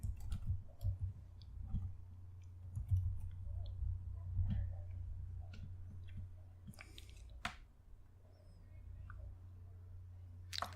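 Computer mouse clicks while navigating a desktop menu, a handful of faint, sharp, scattered clicks heard close over a low background hum.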